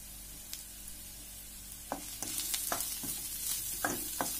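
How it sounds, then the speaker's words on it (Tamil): Cumin, red chilli, coriander, pepper and sambar powders sautéing in a pan for a garlic mushroom fry, with a steady soft sizzle broken by several sharp scraping stirs, close by with no talk. "இப்போ இதெல்லாம் கொஞ்ச நேரம் நல்லா வதங்கட்டும்."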